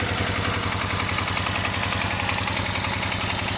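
A 1990 Suzuki VX800 motorcycle engine idling after an oil change, a steady loud rhythmic low throb that stays even throughout, close by, with no talk.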